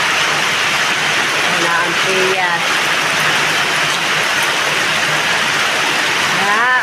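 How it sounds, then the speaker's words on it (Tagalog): Heavy rain pours steadily onto surfaces near a hut, a dense continuous hiss throughout, with a person speaking briefly over it. "ang lakas na naman po ng ulan"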